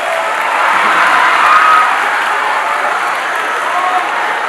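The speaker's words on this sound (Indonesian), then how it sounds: "Beri tepuk tangan yang sangat meriah buat Abimanyu." Loud, dense applause fills a hall at a talk show on time in the perspective of art, many hands clapping steadily and swelling slightly before settling, with no speech over it.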